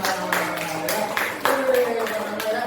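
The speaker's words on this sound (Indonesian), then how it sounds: "tepuk tangan untuk Pak Dana ya" A small group applauds a colleague, Pak Dana, at a school training session: steady light clapping held for a few seconds, with a voice speaking over it.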